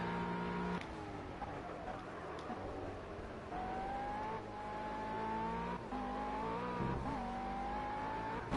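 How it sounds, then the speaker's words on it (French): GT3 race car in the Project CARS video game, engine droning with rising and falling pitch as it drifts under braking on cold tyres, steady loud simulated motor sound with shifts. "je suis parti un petit peu en drift au freinage"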